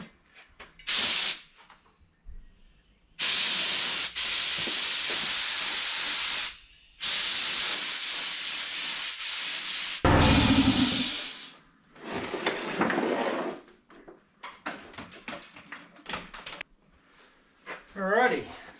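A spray can lays primer on the metal of a 1951 Chevy Fleetline in a garage, in several long loud hissing bursts separated by pauses, followed by rattling and clatter as a person talks in between.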